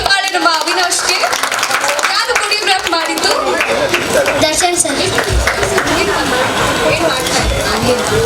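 Audience applause and clapping at a Mr & Miss India 2023 grand finale event, steady and dense throughout, mixed with voices and background music.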